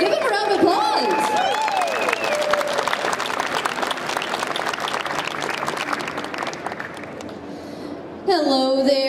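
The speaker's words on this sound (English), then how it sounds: "Yeah, give them a round of applause." An audience at a science-center event gives volunteers sustained applause and cheering across several seconds, with a voice talking over it and a brief burst of speech near the end.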